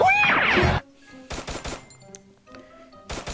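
Short bursts of rapid video game gunfire, loud and close, separated by brief pauses, following a moment of music or game sound at the start.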